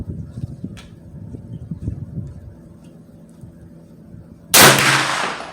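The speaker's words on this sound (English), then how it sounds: "Okay, I'm gonna take 2 more shots without it and see if the point of impact comes back." A single sharp, loud gunshot from a 9mm Ruger PC Carbine fitted with a red dot sight cracks out near the end, fading quickly after some faint handling noise and rustling.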